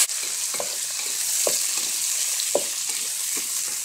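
Garlic, onion and tomato sauté in hot oil for ginisang monggo, a steady bright sizzle with a few soft stirring scrapes and clicks spaced through it, close and continuous, with no voices.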